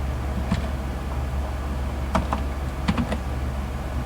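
Keys clatter on a computer keyboard while HTML code is typed, a few scattered clicks and short bursts standing out over a steady low room hum.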